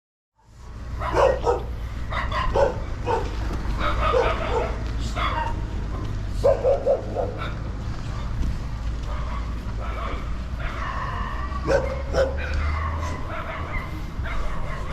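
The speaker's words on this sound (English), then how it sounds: "So those dogs looking a little bit aggressive. They're attacking everybody on the streets." Aggressive street dogs bark and yip repeatedly on a street in Ipiales, Colombia. The barks are loud and close, in uneven bursts over a low traffic rumble, with some whimpering between them.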